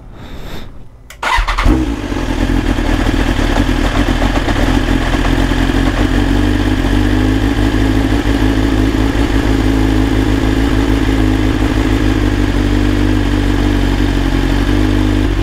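A BMW S1000RR sport motorcycle in Nepal fires up after a brief starter crank, then settles into a steady, loud, close idle that holds evenly to the end.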